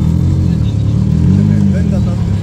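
Modified car with a loud aftermarket muffler rumbles and revs nearby at a TRIAL PARK Kambara car meeting, a deep throaty exhaust drone swelling slightly midway, with voices talking over it.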